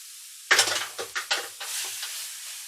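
Sauerkraut dropped into a hot pan, a sudden loud sizzle followed by several short bursts of scraping and stirring, then a softer hiss that fades, close by with no talk.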